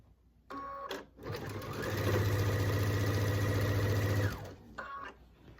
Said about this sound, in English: I'm going to sew that down.